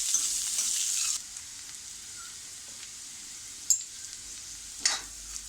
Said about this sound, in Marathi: आपण कांदा थोडा परतूया. थोडा त्याचा कलर बदलेपर्यंत आपल्याला कांदा परतायचा आहे.